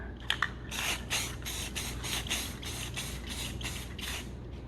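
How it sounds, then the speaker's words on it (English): Short repeated hisses of a spray can laying clear coat over a marble-look model base, about ten quick evenly spaced bursts close up, with a faint rattle at the start and no voices. "We're just going to hit it with another layer of clear coat."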